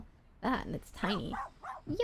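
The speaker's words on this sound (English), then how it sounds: "Sorry about the barking. She's a little shy." A small Pomeranian, shy and carried in a backpack, gives a quick run of sharp, high yips and barks close by, partly under a person's talk.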